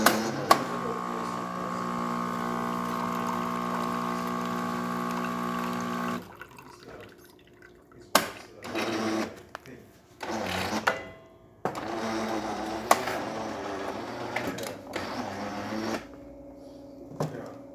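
A Kanen espresso machine running a fast rinse cycle gives a steady pump hum with a tonal whine for several seconds. It stops, followed by scattered short clicks, gurgles and drips, all close by and with no voices.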